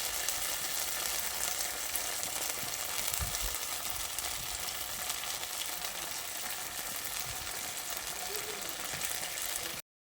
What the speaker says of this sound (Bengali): গ্যাসের ফ্লেমটা লোতে করে সব কিছুকে একসঙ্গে ভালো করে নেড়ে চেড়ে মিশিয়ে নিতে হবে